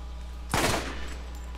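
A single loud burst of gunfire erupts partway through, a blast in the Borderlands video game followed by a short decaying tail over steady background hum.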